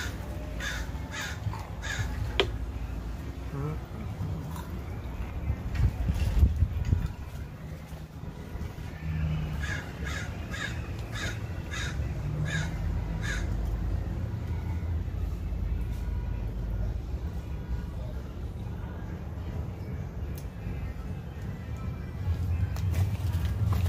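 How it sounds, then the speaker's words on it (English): Several crows caw in repeated bursts at moderate distance, standing out over a steady low rumble of passing traffic. "Listen to those crows."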